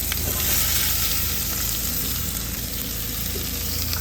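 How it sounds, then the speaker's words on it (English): Sausage and onion frying in a pan at a hunting camp kitchen, a steady loud sizzle that runs unbroken throughout, heard alone with no talk. "You just want to brown this sausage. I believe that's good enough. I'll throw this onion in there."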